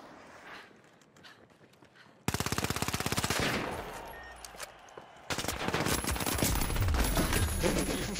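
Machine gun fire in the video game The Finals: after a quiet opening, loud, close, rapid automatic bursts rattle on continuously through the rest of the clip.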